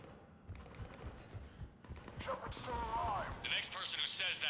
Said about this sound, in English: They're really shooting like crazy over here.